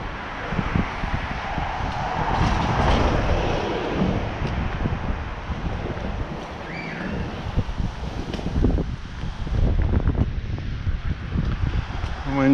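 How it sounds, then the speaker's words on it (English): Steady wind blowing hard at a hill lookout, a continuous broad roar buffeting the microphone throughout with gusty swells. "Wind picking up a bit, but that's all right."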